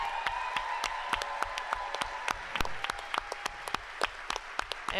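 An audience at an aldermanic debate applauds the moderator with a steady stream of clapping, individual sharp claps standing out close by over the crowd's rhythmic patter, holding level throughout.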